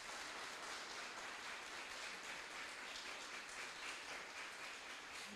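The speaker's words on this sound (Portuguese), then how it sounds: "pode aplaudir essa palavra maravilhosa" Steady applause from a church congregation during a sermon, a dense continuous wash of clapping that holds at an even level throughout without a voice on top.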